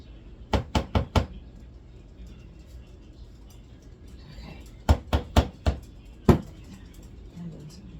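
A spoon or utensil knocks and scrapes against a pan while macaroni and cheese is made, two bursts of four sharp raps each plus a final single hit, close and loud over a quiet kitchen background.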